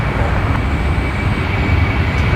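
Jet aircraft at Brisbane Airport, a steady loud broadband engine roar with a high whine, continuous and fairly close for the whole moment, no voices.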